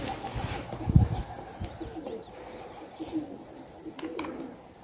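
Tumbler pigeons coo softly and intermittently at a moderate distance, a low burbling over faint background noise with a louder burst near the start.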